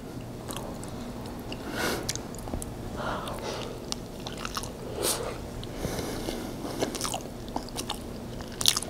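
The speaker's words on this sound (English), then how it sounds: "It's just gonna be eating sounds." Corned beef with corn and taro is chewed close to the microphone, with wet bites and soft crunches repeating irregularly over a quiet background.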